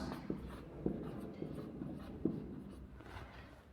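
Chalk or a marker writes on a board in a quiet room, giving soft scratchy strokes punctuated by a few light taps, all faint and close.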